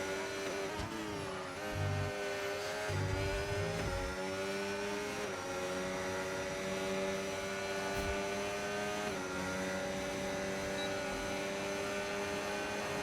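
Racing cars, including a Ferrari, in a simulated race at a round in Australia, heard as a continuous layered engine drone with rising and falling pitch as cars pass and shift, steady and fairly close throughout.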